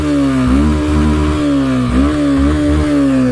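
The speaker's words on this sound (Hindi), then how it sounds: "ये एग्जॉस्ट सुन लो इसका।" Loud, throaty exhaust from a modified 2023 Yamaha FZS Version 2 motorcycle revving up close, rising and falling in several quick bursts of throttle.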